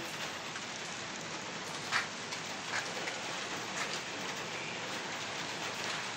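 Steady, dense rain pattering on a surface, an even hiss with a few louder drips, no voices.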